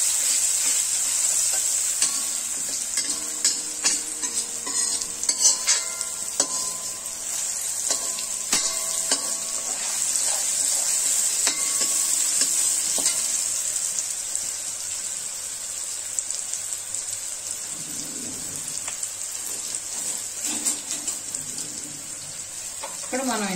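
Tomatoes frying in a pan for paneer butter masala, a steady bright sizzle running the whole time with scattered clinks and stirring scrapes, and faint water sounds partway through.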